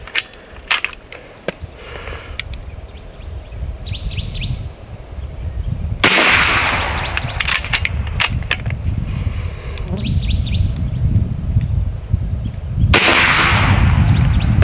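Airgun shots from an AEA HP Max 457 big bore firing slugs outdoors, with two or three sharp reports spaced several seconds apart over a steady background hum of insects and outdoor noise.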